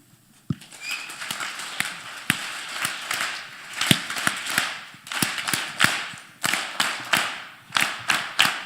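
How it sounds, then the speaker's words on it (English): Uneven audience clapping at a convention, scattered claps in bursts with brief gaps, fairly close and moderately loud, with no talk over it. "Keep clapping"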